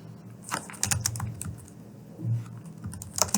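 Light, uneven keystrokes of typing on a computer keyboard, fairly quiet and close, in short bursts with pauses between them.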